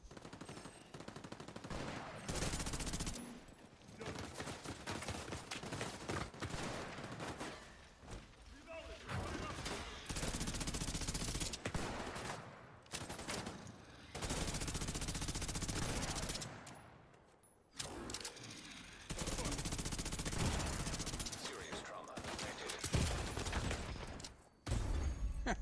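Sustained bursts of automatic gunfire from a weapon in The Division 2, loud and dense with rapid repeated shots, broken by brief pauses, with speech under the shooting.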